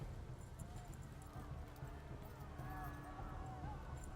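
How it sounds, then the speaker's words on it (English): Horse hooves clip-clopping in the video game Kingdom Come: Deliverance, a faint steady trot running continuously under background game ambience. "We got a horse."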